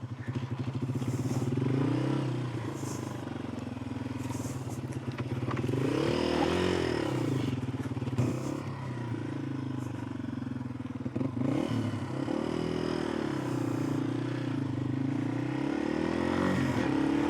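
A Yamaha TW200 motorcycle climbs a trail hill, its engine droning and rising and falling in pitch as the rider works the throttle, with scraping and clattering from the terrain throughout.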